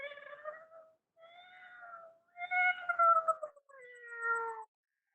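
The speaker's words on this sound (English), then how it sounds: "She doesn't meow that much." A pet cat meows several times in a row, drawn-out plaintive calls with short pauses between them, close and clear with no talking over them.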